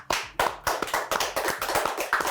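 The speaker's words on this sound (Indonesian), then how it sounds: "Boleh teman-teman tepuk tangannya." A small group claps for a guest on a podcast show, with sparse, close, distinct hand claps in an uneven rhythm of about eight hits, no voices over them.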